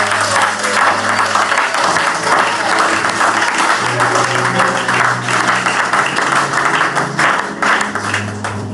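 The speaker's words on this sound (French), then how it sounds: "Est-ce que tu peux acclamer?" Church congregation applauding at a worship service, dense continuous clapping close and loud for several seconds, with faint cheering voices and a low sustained tone underneath.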